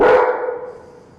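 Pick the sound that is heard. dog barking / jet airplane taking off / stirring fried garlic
dog barking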